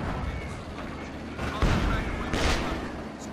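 A steady artillery barrage in the World War II strategy game Company of Heroes 2 rumbles on, with heavier booms swelling out of a dense roar of distant fire.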